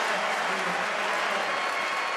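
Steady, dense applause from a large crowd filling the main stand at Hayward Field during a Diamond League athletics meet in Eugene, loud and sustained throughout with no clear break.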